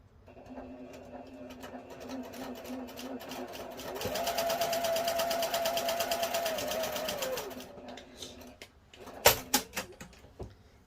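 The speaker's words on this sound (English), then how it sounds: "right over to the sewing machine." A sewing machine stitches two quilting fabric pieces, right sides together, in a steady close run of about three seconds over faint room noise, followed by a few soft clicks and handling bumps.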